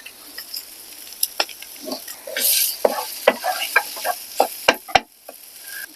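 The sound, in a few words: food sizzling while frying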